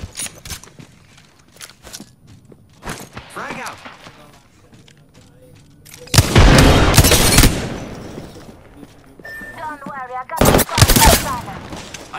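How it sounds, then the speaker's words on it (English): Gunfire in Apex Legends arrives as sharp single shots early on, then loud sustained automatic bursts mid-clip and near the end, close and intense, with character voice lines between. "I am taking fire, friends."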